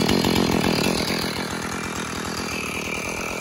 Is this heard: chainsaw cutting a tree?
yes